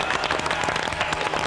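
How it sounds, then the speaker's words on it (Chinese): Studio audience clapping on a Taiwanese variety talk show, a steady dense patter of hands at moderate level lasting about a second and a half with no voices over it. "掌声鼓励一下"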